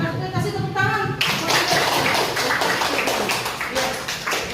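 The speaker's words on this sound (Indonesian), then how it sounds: "Kenapa kita kasih tepuk tangan?" Classroom students applauding together, a dense burst of hand claps that sets in after a brief opening and carries on steadily, loud and close, with some voices mixed in.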